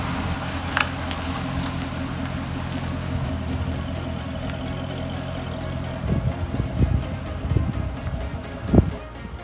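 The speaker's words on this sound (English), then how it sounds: "Just listen to the sound of pure, naturally aspirated V8 LS3 engine." Corvette's naturally aspirated V8 LS3 engine idling in a parking area, a steady low rumble with a few louder throaty bursts and blips toward the end.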